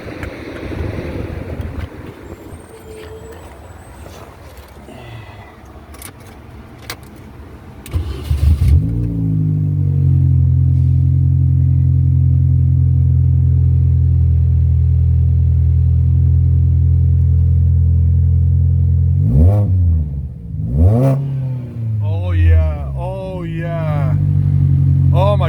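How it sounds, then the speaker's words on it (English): A Mini Cooper R50 engine, fresh after a spark plug change, cranks and catches, then settles into a loud steady idle and gets a couple of sharp revs, with people talking quietly before the start. "So now let's start the car."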